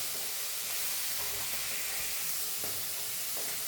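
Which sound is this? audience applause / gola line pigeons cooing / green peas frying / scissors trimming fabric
green peas frying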